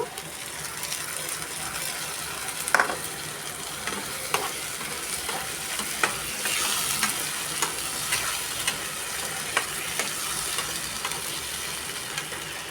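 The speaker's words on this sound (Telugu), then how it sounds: "ఇదిగోండి నాలుగు టమాటాలు మిక్సీ చేసి వేసుకుంటున్నాను" Steady sizzling and bubbling of blended tomatoes frying in a pan, with occasional stirring clicks, close and continuous.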